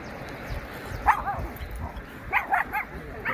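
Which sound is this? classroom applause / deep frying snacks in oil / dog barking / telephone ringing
dog barking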